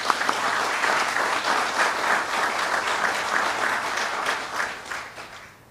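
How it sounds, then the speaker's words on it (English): Sustained applause from a ceremony crowd at a Hawaii National Guard promotion pinning, steady dense clapping throughout that tapers off at the end. "Another round of applause for you guys."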